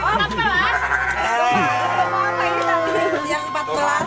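Garut sheep bleat loudly and close by at feeding time, wavering drawn-out calls overlapping one another, with people talking nearby.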